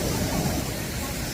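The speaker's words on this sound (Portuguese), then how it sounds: "O barulho da água parece uma cachoeira." Water roars over the spillway of the Orós reservoir in Ceará on a morning boat visit. It makes a loud, steady, broadband rush like a waterfall, continuous and close.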